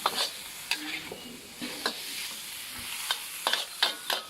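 Carrots stir-fry in a pan for nam fried rice, a soft steady sizzle under regular sharp scrapes and taps of a spatula against the pan, fairly quiet with no speech.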